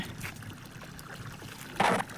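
Borewell water running out into an areca nut plantation: a faint, continuous trickle and gurgle, with a short, louder splash near the end.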